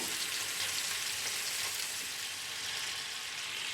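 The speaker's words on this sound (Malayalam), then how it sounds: "ഡീപ് ഫ്രൈ അല്ല ചെയ്യുന്നത്, ഒരു ഷാലോ ഫ്രൈ ആണ് ചെയ്യുന്നത്." Chicken pieces for a curry shallow-frying in hot oil in a pan, a steady, dense sizzle and crackle that holds evenly throughout at close range with no voices.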